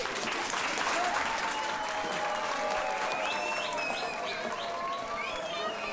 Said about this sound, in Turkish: Bir alkış alabilir miyiz?